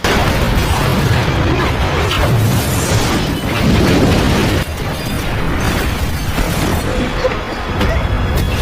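A loud, sustained rumbling blast in an action film, with deep booming energy and crackling debris, continuous and dense throughout, like a big explosion with a roaring aftermath.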